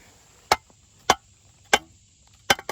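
A piece of soapstone is struck several times during a South Carolina sapphire hunt, each blow a dull, short knock, spaced about half a second apart, with a quick double hit at the end.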